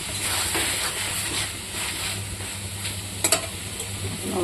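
Potatoes fry steadily in a pan, a constant sizzle with occasional stirring scrapes and a brief clatter near the end, heard close up with no talking.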